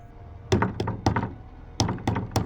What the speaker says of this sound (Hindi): दस्तकें लगातार होती रही।